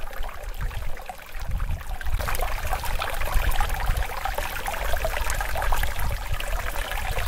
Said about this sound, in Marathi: मस्त पाण्याचा आवाज ऐकायला येतोय